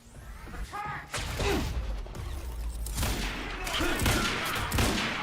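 A flashbang grenade blast in the video game Quantum Break comes as a loud burst amid a dense chaotic barrage of gunfire and crashing, close and sustained, with a voice faintly underneath.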